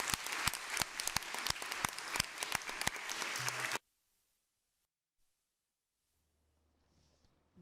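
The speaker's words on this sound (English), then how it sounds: "round of applause everyone" A school audience at a primary school debate final claps in a round of applause, steady and sharp, for almost four seconds before it ends suddenly and leaves near silence.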